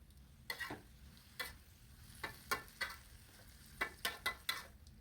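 Papaya flowers and tempeh stirred in a frying pan: a spatula scrapes and taps the pan in about ten sharp, irregular strokes over a faint sizzle, fairly close, with no talking.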